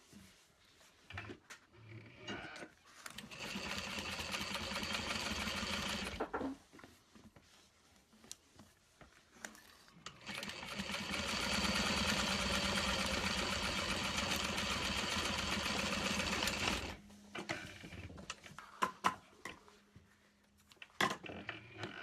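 A home sewing machine top-stitching a vinyl handbag runs in two long bursts of steady motor whir and needle chatter, separated by short pauses and handling clicks.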